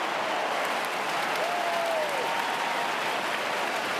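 Large Sydney crowd at the SCG applauding and cheering a goal during an AFL match against Collingwood, a dense, steady roar of clapping and voices filling the whole stretch at an even loudness.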